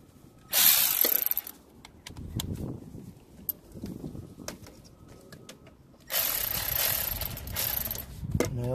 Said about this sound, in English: Take our electric ratchet here.